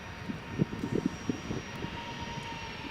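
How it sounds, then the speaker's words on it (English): A Ryanair jet with CFM56 engines rumbles on the airport runway, a steady engine drone with a faint high whine, heard from a moderate distance with bumpy low thuds. "Love the sound of those CFM 56 engines."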